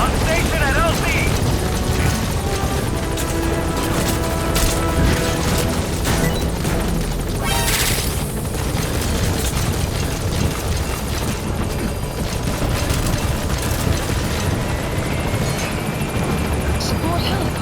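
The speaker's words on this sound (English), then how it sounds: "Support helicopter has arrived." A support helicopter arrives in Metal Gear Solid V: The Phantom Pain, its steady rotor roar running loud and continuous throughout, with a brief crash-like burst partway and game voices talking over it.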